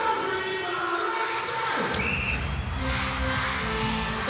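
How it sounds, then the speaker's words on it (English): Crowd noise from spectators at a Suncorp Super Netball match between the Fever and the Giants in RAC Arena, a steady roar of cheering that swells around the two-second mark and continues loudly throughout, with faint thuds underneath. "So you can hear the crowd in the background"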